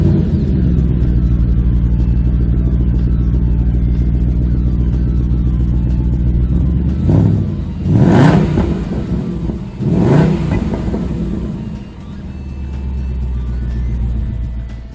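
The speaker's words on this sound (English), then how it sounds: "start this up and show you guys a bit of a difference and what it sounds like with the supercharger on it" A 2019 Roush Mustang with a supercharger idling with a steady loud rumble, then two sharp revs that rise and fall back to idle, no talk.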